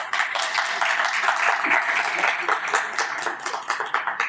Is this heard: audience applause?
yes